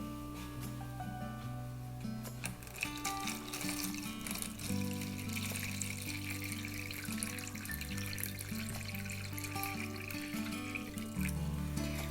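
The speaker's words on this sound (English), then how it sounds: "Now we will add some water." Water poured steadily into a container for a light-refraction demonstration with a mirror, a continuous trickling and filling sound with rising tone under background music, with no talking.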